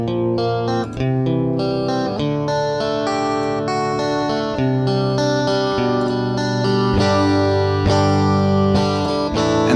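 An electric guitar processed with a stereo widening effect plays a dense, distorted chordal riff, loud and continuous with shimmering, chorus-like sustain, and no voices.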